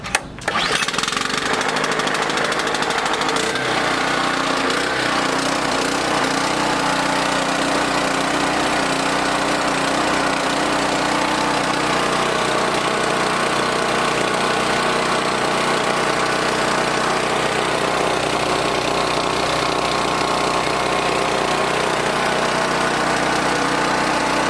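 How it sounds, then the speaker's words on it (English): A small gasoline engine running on fuel treated with the Gas Guardian additive, after early surging, sputters to life then idles loud and close with a steady, even drone and slight knock. "Engine that was surging a lot early on. Now it seems to smooth out."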